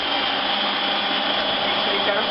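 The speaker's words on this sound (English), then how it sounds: "obviously I'm going to let the food processor run longer" A food processor blends hummus with a steady, loud, unbroken motor whir that holds an even pitch throughout.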